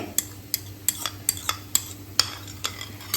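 Saffron-infused milk being stirred into moong dal halwa in a pan: close, sharp scraping clacks of a spoon repeating about every third of a second over a low steady hum, with no talking.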